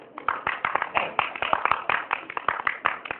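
Hand clapping from a small group at an Indian comedic political rally, a steady run of fairly close claps lasting a few seconds with no talk over it.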